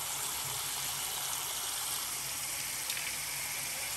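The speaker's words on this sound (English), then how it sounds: "regular running water from the faucet." Steady running water from a household faucet, a continuous close hiss and splash at constant loudness with no voices.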